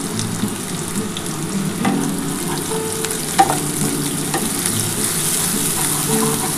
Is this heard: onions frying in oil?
yes